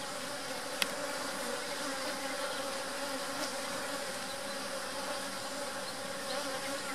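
Honeybees buzz around an open hive during a colony inspection after a split, making a steady, dense hum that fills the scene with no talking.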